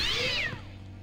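A cat in the video game Deus Ex: Revision lets out a single clear, drawn-out meow that falls away at the end, heard up close with no talk over it.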